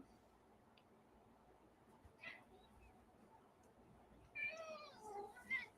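A house cat meowing, giving a couple of faint, short cries in a quiet room before a louder run of meows near the end, set against low background hiss.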